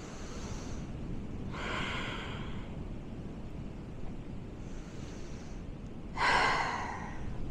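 Two deep, breathy inhale-exhale cycles during beach yoga, each a short airy rush near the microphone, rising over the constant roar of surf and wind.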